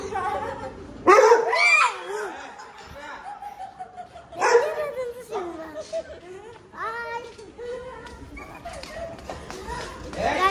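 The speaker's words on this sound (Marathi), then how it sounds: "आणि यांचा कुत्रा कसला मोठा" A large dog gives a few loud, deep barks nearby, spaced out among children's chatter, shouts and laughter.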